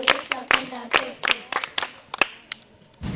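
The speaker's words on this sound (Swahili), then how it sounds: "Pigieni makofi" Children clap in a Catholic parish church gathering, producing a rhythmic series of sharp, fairly close hand claps at a steady beat, with a few scattered claps trailing off.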